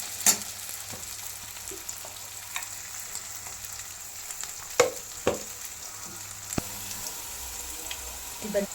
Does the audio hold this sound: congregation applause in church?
no